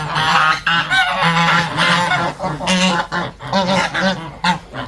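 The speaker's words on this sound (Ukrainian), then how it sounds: "Це старі гусочки, не цьогорічні." Several adult geese on a small farm honk loudly and close by, overlapping calls in an irregular chorus with no talking.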